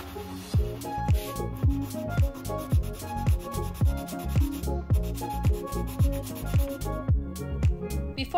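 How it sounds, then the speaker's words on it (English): Close, rhythmic sanding of wood filler on furniture surfaces, with repeated back-and-forth strokes at roughly two per second, each a rasping rub that rises and falls in a steady pattern, without speech. "I'm removing the clamps and sanding the surfaces with wood filler to smooth them out."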